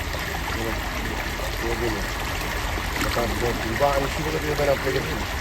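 Rainy-season water flowing down from upper ponds, a steady, close rushing stream that runs throughout beneath someone talking.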